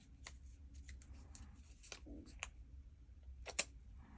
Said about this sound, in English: I'll just trim this a little bit more.